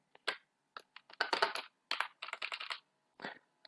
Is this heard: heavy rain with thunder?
no